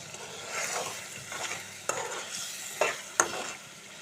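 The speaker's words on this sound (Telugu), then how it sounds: "కడుక్కొని శుభ్రంగా తెచ్చిన రొయ్యలు దీనిలో వేసి వేయించుకుంటున్నానండి" Cleaned raw prawns sizzle in a pan with turmeric, salt and ginger-garlic paste, soft frying hiss broken by several scraping stirs and a few sharp clinks of the spoon against the pan.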